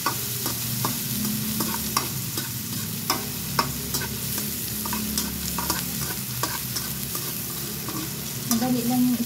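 Salmon sizzles in a frying pan, with a utensil stirring and scraping it in repeated clicks and taps over a steady frying hiss, close and clear, growing busier toward the end.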